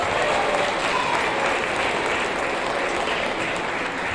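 Audience clapping at a 7th grade awards ceremony for Musician of Note winners, a dense, loud, sustained round of applause from a crowd filling the room, steady throughout without a break.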